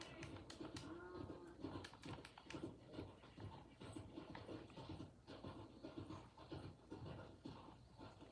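Cattle in the Red Dead Redemption II video game, stirred up on a farm, with faint, busy lowing, panting and scuffling in a continuous jumble of short animal sounds.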